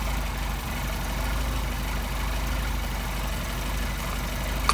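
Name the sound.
Mercedes 190SL engine idling with Solex carburetors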